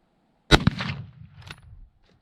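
A Winchester Model 1895 musket fires a single loud, close shot, a sharp crack followed by a rolling echo that fades within about a second and a half.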